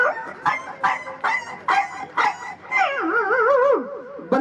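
An excited dog coming when called, giving a run of sharp, evenly spaced yips and barks up close, then breaking into a wavering, whining howl.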